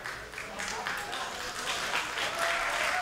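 Audience at the Contender Series arena in Las Vegas applauding as a fighter leaves the MMA octagon, a steady wash of clapping heard under a commentator's voice.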